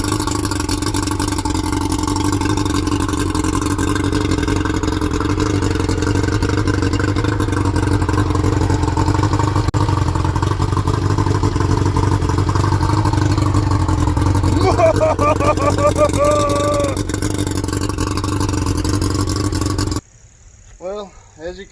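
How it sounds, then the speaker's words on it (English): A two-stroke outboard engine on a Cajun bass boat runs after a carburetor clean, holding a loud, steady droning hum close by before cutting off abruptly near the end. "we got it started. It was making some good little chopping two-stroke noises there"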